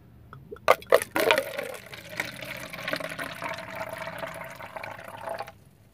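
Knetic energy drink is poured into a white cup: a few sharp clicks and cracks as the can opens and tips, then a steady bubbling fizzing pour for several seconds that stops abruptly.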